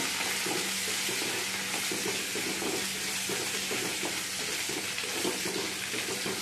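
Onion frying in a pan for green mango bharit, a steady close broadband sizzle with faint stirring scrapes running throughout, no talking.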